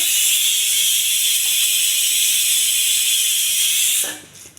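Mustard seeds crackling in hot oil with dried red chillies and urad dal in a pan, a dense, loud, hissing spatter held steadily close up, then cutting off abruptly near the end.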